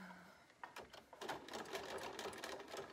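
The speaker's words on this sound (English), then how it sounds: "Before I start sewing, I want to make sure I have a good zigzag." A sewing machine runs a zigzag stitch in quick bursts of rapid, close mechanical clatter, fairly quiet and close, starting after a brief pause and continuing to the end.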